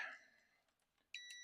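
Faint high electronic beeps: a tone at the start, a few soft blips, then another bright beep near the end, in a quiet room.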